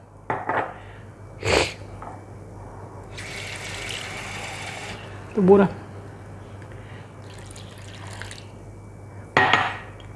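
Water poured into a mixing bowl for coconut flour keto bread, a few sharp splashy bursts and a longer hissing pour with light clinks of the bowl nearby.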